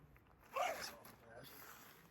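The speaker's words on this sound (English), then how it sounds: "so again, we'll zip this back up" A zipper being pulled closed on a GEARS Spyder RT chair cover, one short quiet zip up close, with someone talking around it.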